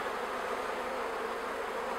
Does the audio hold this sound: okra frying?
no